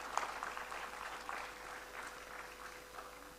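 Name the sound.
audience applause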